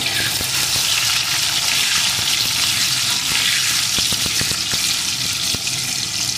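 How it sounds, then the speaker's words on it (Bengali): Potatoes frying in a pan with salt, a steady loud sizzle with occasional crackles and stirring scrapes, close up and continuous, with no talking. "এখন আলুটা লাল লাল করে ভেজে নেব।"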